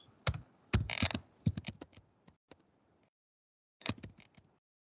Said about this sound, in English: Otherwise, I am typing like this.